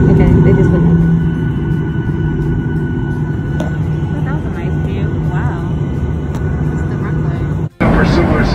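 A Southwest airliner roars steadily on its takeoff run, a loud, dense engine rumble filling the cabin throughout, briefly cutting out near the end, with voices talking over it.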